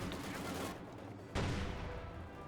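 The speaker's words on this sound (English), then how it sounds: "We have a Maxim machine gun set up in this little shack for Bobtimus Prime." A Maxim machine gun set up in a small shack fires in a Company of Heroes 2 match on Moscow Outskirts: sustained rattling bursts at moderate loudness amid battlefield din, with a sharper burst midway.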